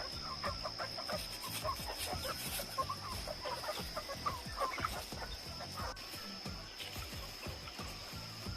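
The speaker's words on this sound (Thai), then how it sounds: "เลี้ยงไก่พื้นเมือง" Native free-range chickens cluck steadily in the background on a highland mixed farm, a busy scattered chorus of short clucks over a constant outdoor hum.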